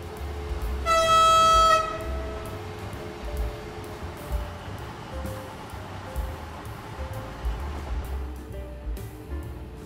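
A locomotive horn in Train Sim World 4 sounds loudly for about a second, then a steady, rumbling train engine runs on alone with faint tonal whines.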